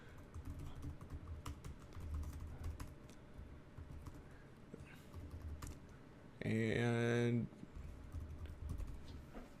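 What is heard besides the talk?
typing on a computer keyboard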